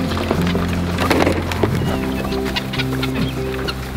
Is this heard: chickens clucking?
yes